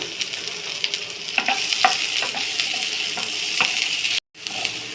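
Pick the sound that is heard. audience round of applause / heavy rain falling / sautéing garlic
sautéing garlic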